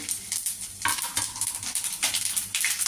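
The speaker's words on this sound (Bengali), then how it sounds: "জিরাটা ফুটে গেছে" Cumin seeds, dried red chilies and a bay leaf sizzle and crackle in hot oil, with intermittent spoon stirring and scraping against the pan. Nobody speaks.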